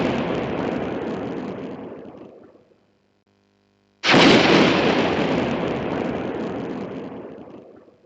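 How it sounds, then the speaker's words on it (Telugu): Two explosions from a forest at dawn: a loud boom that decays over about two seconds, a short silence, then a second, sharper blast that rolls off slowly. "అడవి నుంచి 2 పేలుడులు అక్కడికి వినిపించాయి."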